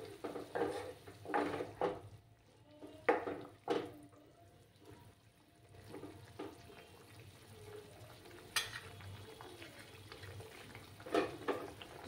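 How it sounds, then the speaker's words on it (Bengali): Hot water is poured into a pot of katla fish curry with beans, potato and tomato, giving soft splashing and trickling, with scattered clinks of the pot and utensil, at a quiet level. "আর একটু জল দিলাম।"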